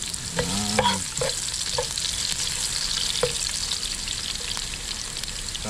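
Garlic sizzles and frying in oil in a pan, getting stirred as aromatics for Chinese-style steamed tilapia. A steady crackle runs throughout, with several scraping stir strokes near the start and one more a few seconds in. Nobody speaks.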